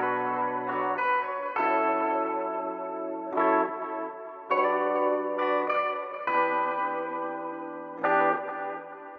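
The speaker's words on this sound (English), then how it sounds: "And then I added a tape delay." Electric guitar through a tape delay effect in Logic Pro X, playing an Afrobeats-style melodic phrase of sustained chords and notes with warm, smeared echoing repeats and a lingering tail, loud and alone without talk.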